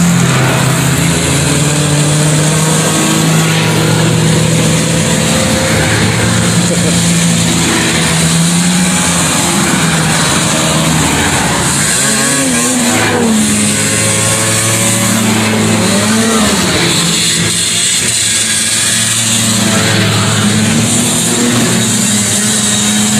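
A vintage snowmobile riding past at an outdoor winter show, its loud, buzzing two-stroke-style engine droning steadily for the whole stretch, shifting in pitch as it passes close by.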